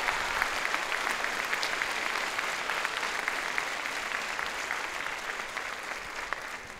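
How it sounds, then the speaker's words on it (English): Sustained applause from a graduation audience at a school district evening study center ceremony, a steady dense wash of clapping hands that holds at an even level throughout, with no speech over it. "Give yourself another round of applause."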